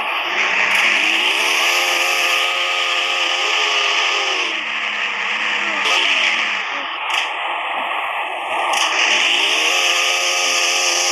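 Drift car sliding and revving hard, with long sustained tire squeals and a high engine whine that rise and fall in waves, loud and close, with no talking.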